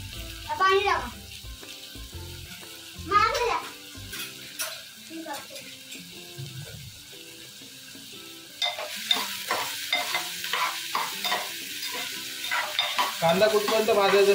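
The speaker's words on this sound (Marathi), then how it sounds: "कांदा कुठपर्यंत भाजायचा" Onions sizzle and fry in a pan for prawn masala while a utensil stirs them in repeated scraping strokes, close and steady, with the sizzle growing louder toward the end.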